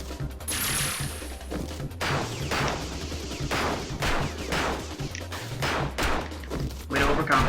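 Submachine gun fire from the video game Rengoku, rapid mechanical bursts repeating in short volleys, loud and close, layered with clanking metallic impacts and no talking.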